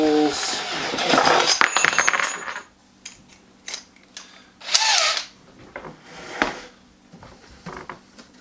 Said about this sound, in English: I drill the holes.